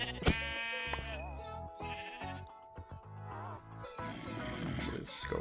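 Sheep bleat repeatedly in the blocky Minecraft Jurassicraft mod, loud, wavering calls arriving close by among game sounds and low background noise, with someone talking now and then.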